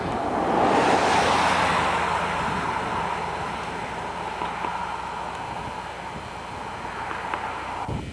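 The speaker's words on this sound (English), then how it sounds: "You can probably tell by the wind." Strong wind buffeting a microphone on a mountain summit during a cycle tour between Tijuana and Tecate, Mexico, a loud roaring rush that peaks early and then eases slightly to a steady blow.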